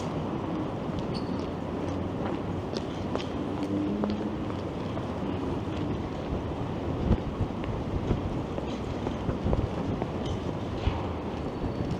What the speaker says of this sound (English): Now that wind is picking up